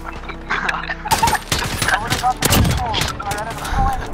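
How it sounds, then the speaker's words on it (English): Gunfire in a video game, dense volleys of shots and booms crackling through the clip, mixed with excited voices talking over the action. "Bro, how is Luna the only one with the gun?"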